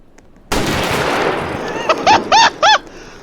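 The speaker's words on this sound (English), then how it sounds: "How many times do I have to tell you to stop shooting people?" Video game gunfire in a storm chasing game: a loud burst of rapid shots breaks out after a short quiet, then continues with a few sharp bursts near the end.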